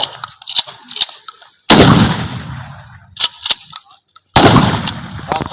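Two powerful rifle gunshots boom out at an outdoor firing range, each with a long echoing tail. Smaller sharp clicks and knocks fall in the quieter stretches between the shots.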